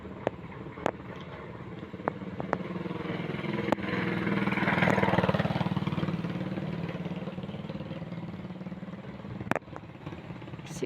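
A motorcycle with no headlight passes along a dark, quiet road near a highway in the evening, its engine hum rising as it approaches and fading as it moves away, with a few faint clicks nearby.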